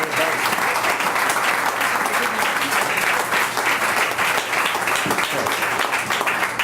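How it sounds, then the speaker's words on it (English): At a political campaign fundraiser, an indoor audience breaks into sustained applause, a dense, even wash of many hands clapping at once that holds loudly for several seconds. "So if I could just have one more hand of applause to the individuals behind me."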